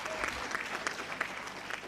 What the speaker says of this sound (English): Let's give them court reporters a round of applause.